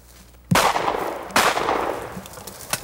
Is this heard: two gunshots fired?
yes